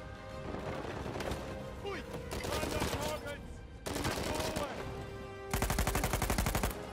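Gunfire in the video game Uncharted 4: A Thief's End, bursts of rapid automatic fire mixed with single shots, loud and repeated, with game sounds and voices underneath.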